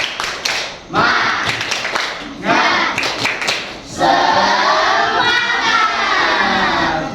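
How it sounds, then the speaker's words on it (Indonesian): A class of children claps in a quick rhythmic cheer, then shouts together loudly, with the clapping and chanting repeating in bursts. "Semuanya yuk kita tepuk semangat ya bersama-sama ya"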